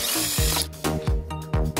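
A power tool zips in short repeated bursts while loosening a bolt on a Victoria Nicky 125 scooter, several close, loud whirring pulses in quick rhythm.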